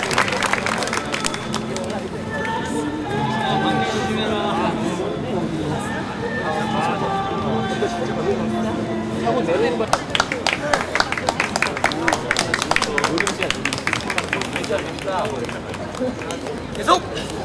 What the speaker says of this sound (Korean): 여러분 홍 선수에게 격려의 박수 부탁드리겠습니다